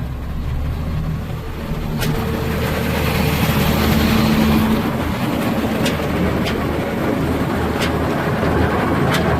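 A 1995 snowmobile engine runs steadily and is throttled up, a loud, continuous mechanical drone with a slight rise in intensity midway, no voices.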